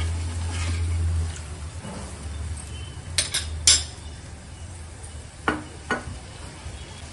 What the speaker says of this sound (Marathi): व्यवस्थित मिक्स करून घेऊया आणि उकळी यायची वाट बघूया